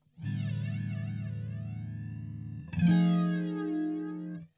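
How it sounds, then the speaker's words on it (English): Flanger effect from a Boss Katana 50 MkII guitar amp on a played guitar: sustained distorted notes with a sweeping, whooshing comb-filter modulation, then a second fresh strum rings out louder, clear and alone with no talking. "If I press it again, I get a flanger."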